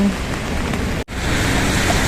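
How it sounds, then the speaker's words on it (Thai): Heavy rain pours down in a dense, loud, continuous wash on a dark, stormy day, broken only by a momentary cut near the middle. "ฝนตกทั้งวัน"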